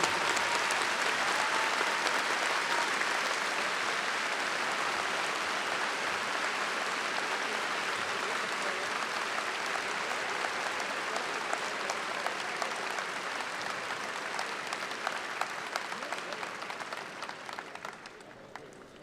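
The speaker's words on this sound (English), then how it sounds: "Please join the faculty, staff, and students of ULM in a round of respectful applause to honor Peggy's memory" Sustained applause from a large university commencement audience, a dense, even wash of clapping that holds steady for nearly twenty seconds before thinning slightly at the end.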